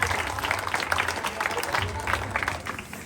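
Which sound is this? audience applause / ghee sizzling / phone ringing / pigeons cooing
audience applause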